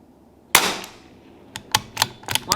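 Match-grade .22LR Lapua Center X rounds are fired from a rifle in a five-shot group: one sharp crack followed by four quicker, slightly softer reports spaced through the last second, close and dry.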